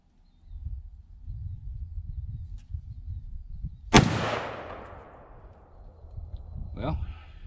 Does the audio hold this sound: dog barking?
no